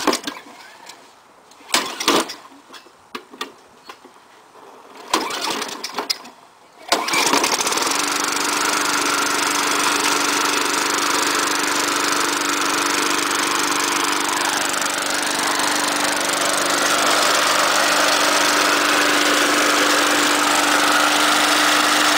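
A Tecumseh-engined lawn mower that sat unused for five years, freshly oiled and primed, sputters through a few short pull attempts, then catches and runs at a loud, steady idle that stays close and continuous.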